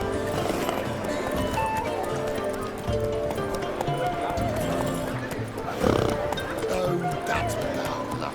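A horse gallops in The Witcher 3 video game, with steady rhythmic hoofbeats and an occasional snort running under game music and voices talking.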